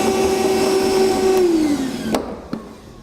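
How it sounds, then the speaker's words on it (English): A vacuum cleaner sucking up metal shavings during a pickup truck bed gooseneck hitch install, a loud steady motor whine that drops in pitch as it shuts off, followed by a couple of knocks. "Now we'll vacuum up our shavings."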